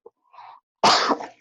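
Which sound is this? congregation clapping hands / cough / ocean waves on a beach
cough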